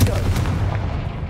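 A Confringo blast spell in the Hogwarts Legacy video game lands as a loud, booming explosive burst that fades over about a second.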